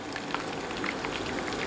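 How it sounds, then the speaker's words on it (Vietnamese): Fish deep-frying until crispy in plenty of hot oil, making a dense, steady crackling sizzle with tiny pops throughout, heard close and alone without talking. "Chiên mỡ nhiều thì nó hơi lâu cả nhà."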